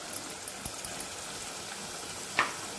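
Tomatoes cooking in a pan for a pea, potato and drumstick curry, giving a soft, steady sizzle with faint crackles and one brief clink near the end, no voices.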